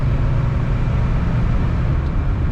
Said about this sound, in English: Car runs really good, accelerates as you would expect.